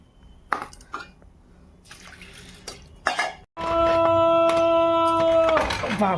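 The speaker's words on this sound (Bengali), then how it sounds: "এই জলটা আমি ফেলে দিচ্ছি আর এক ধোয়া দেব" Water from a second rinse of lentils is tipped out of a pot, giving splashing, pouring bursts, followed by a steady running-water flow with a high ringing tone from a kitchen.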